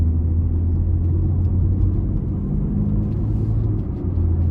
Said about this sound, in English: Gonna give it a little throttle here out of this corner.